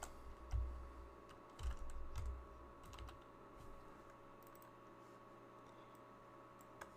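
An IF function formula is typed on a computer keyboard for an Excel spreadsheet: a few soft, faint key clicks over a steady low hum, with no voices.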